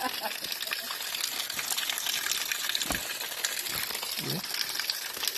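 Spring water flowing and splashing at a grotto in Sitio Karubang, Astorga, Santa Cruz, a steady close gush with brief dripping plops, alongside faint voices.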